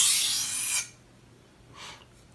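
A knife drawn across a sharpening stone in a long gritty rasping stroke, close and fairly loud, then a shorter, fainter scrape after a brief pause.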